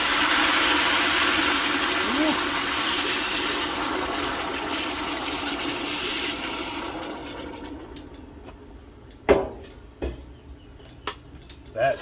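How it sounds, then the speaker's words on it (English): Hot water pours into a pot in a kitchen, running as a steady rushing splash for several seconds before it fades, followed by a few sharp clanks of metal cookware. "this is some hot water because I don't feel like waiting"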